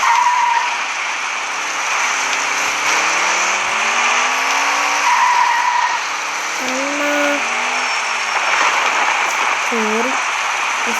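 A jeep being driven produces a steady, loud roar of engine and road noise throughout, with faint wavering tones drifting over it.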